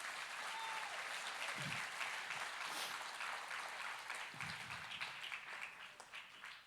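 A church congregation applauds, sustained dense clapping filling the room at moderate distance, with a few faint voices and cheers mixed in.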